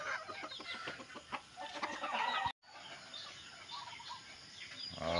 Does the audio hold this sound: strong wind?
no